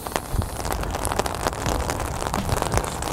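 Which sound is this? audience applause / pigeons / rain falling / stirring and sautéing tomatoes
rain falling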